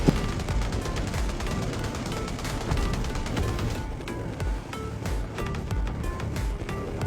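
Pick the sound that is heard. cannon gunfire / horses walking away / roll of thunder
cannon gunfire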